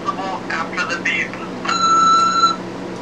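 Record-O-Fone answering machine tone, a steady electronic beep lasting under a second, loud and close, following a spoken voice over a constant mains hum.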